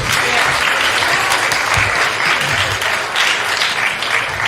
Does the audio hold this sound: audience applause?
yes